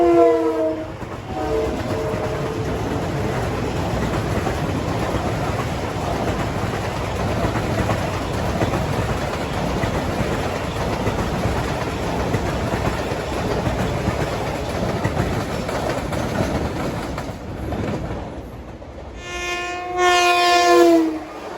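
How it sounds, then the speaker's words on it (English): A Long Island Rail Road commuter train running from Ronkonkoma to New York rumbles steadily past a signal tower in Mineola, with a horn blast near the start and a loud, clear horn again at the end. "Here comes train 2015, Ronkonkoma to New York at 7:22."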